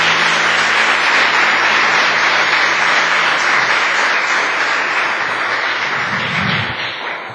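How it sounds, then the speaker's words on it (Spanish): Loud, sustained applause from a church congregation fills the room for about seven seconds as a steady dense roar with no voices, fading slightly at the very end. "Dale un fuerte aplauso a nuestro Dios"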